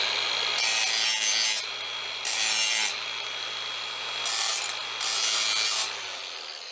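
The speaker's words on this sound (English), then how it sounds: "Let me quickly go and get my grinder." An angle grinder bites into a chrome-plated brass shower rose in four loud bursts of harsh abrasive hiss. Between the bursts a lower steady drone runs underneath, and no one speaks.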